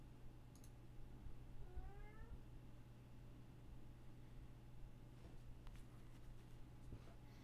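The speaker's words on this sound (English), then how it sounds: "maybe the cat's not so sneaky because he just meowed" A cat gives one short, faint meow, rising and distant over low room hiss and hum, followed by a few soft clicks.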